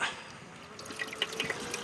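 Water pumped through a beach mining sluice, a steady splashing trickle with dripping and spattering, continuous and close, no talk.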